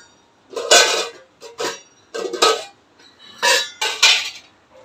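Metal pots and vessels being handled in a home kitchen while bottles are filled with water, with about six bright clanking and clinking bursts in an irregular rhythm, close and loud, and no voices.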